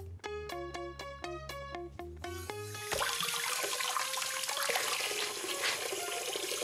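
A cartoon washing scene: a short run of bouncy plucked musical notes gives way to a loud, steady rush of running water that continues to the end.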